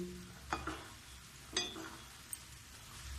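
Four-layer cashew namak pare frying in oil on low gas, soft steady sizzle broken by a few clinking stirs of a spoon against the pan, quiet and close.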